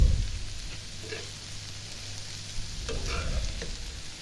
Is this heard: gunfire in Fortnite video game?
no